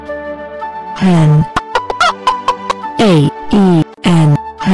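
Close-up, a hen lets out several loud, drawn-out clucks and squawks separated by brief pauses, with a few short, sharp notes mixed in.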